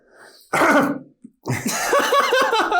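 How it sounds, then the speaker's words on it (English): A single hoarse, throaty cough from a man close to the microphone, followed after a short pause by someone talking. "there's an old man cough for you"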